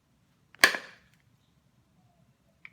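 A single sharp knapping strike of junk tool against stone, one loud crisp crack with a short ringing decay, then near silence and a faint small click at the end.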